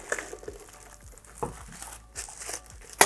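Packaging of Kicx Sound Civilization GFS-165.5 midbass speakers crinkles and rustles up close in a series of short, irregular crackles and soft rubs, with a sharper burst at the end and no voices.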